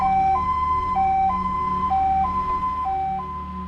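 An ambulance siren wails in a steady two-tone pattern, alternating high and low pitches about every half second, clear and fairly close.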